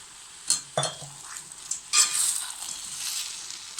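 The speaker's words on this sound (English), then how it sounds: "Then add the cauliflower florets" Cauliflower florets are stirred into thickened Manchurian sauce in a pan, with a few scraping clinks of a spoon against metal over a steady soft sizzle, close up and without talk.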